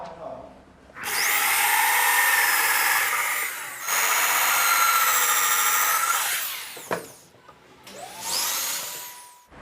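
A power drill bores into a wooden drawer front during a DIY drawer installation, with two long loud whirring runs, then shorter bursts that rise and fall with brief pauses between them.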